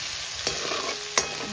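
Ginger, chili and garlic frying in ghee as a spoon stirs the pan: a soft steady sizzle with two sharp scraping clinks of the spoon against the pan.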